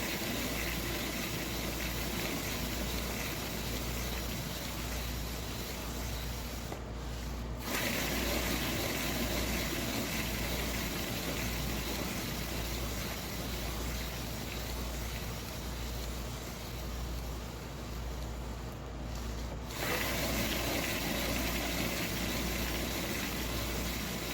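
Steady whirring spin of a turntable flinging excess acrylic paint off a pour, a constant mechanical drone with brief pauses where the rotation stops and reverses direction.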